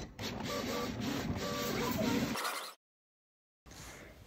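A Cricut cutting machine cuts leaf stencils from a sheet, giving a steady, close mechanical whir with a faint high whine for a couple of seconds before stopping abruptly into silence, then a short burst of motor sound returns.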